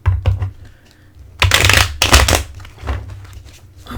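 Tarot cards are shuffled close up, with dense riffling bursts and soft flutters of card stock, the two loudest runs arriving about halfway through over a low, steady room hum.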